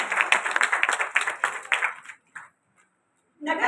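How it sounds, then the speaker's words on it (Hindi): An audience at a literary honours ceremony and poetry gathering in an auditorium claps to welcome a guest. The brisk applause lasts about two seconds, then fades to a few scattered claps and a brief silence before another burst begins. "सभी जोरदार तालियों से आपका स्वागत कराना।"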